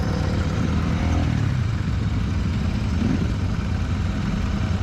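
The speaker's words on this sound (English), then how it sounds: "When the engine comes to life, it does so with a slight rumble, and I must say it's pretty smooth." A Royal Enfield Super Meteor 650 cruiser engine idles with a steady, smooth low rumble, close and continuous throughout.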